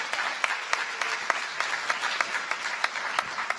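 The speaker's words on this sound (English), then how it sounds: "So many applause." A crowd at a new student orientation applauds. A steady wash of many hands runs throughout, and a nearby clapper's sharper, regularly spaced claps stand out above the crowd.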